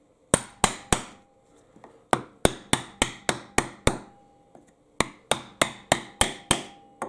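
A wood block is hammered against a band saw blade to bend it, giving sharp, loud, evenly spaced knocks in three quick bursts of about three to seven strikes each, heard alone.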